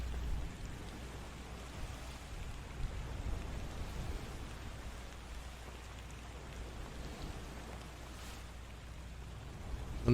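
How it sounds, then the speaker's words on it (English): Continuous patter of rain in the video game Return of the Obra Dinn, falling on a surface, dense and even throughout, with a soft hiss beneath and no talking. "And the little drops of rain."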